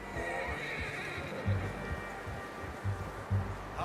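A horse whinnies and snorts nearby in the video game Red Dead Redemption 2, with soft hoof clops and faint background ambience; several short neighing bursts stand out over a steady low hum.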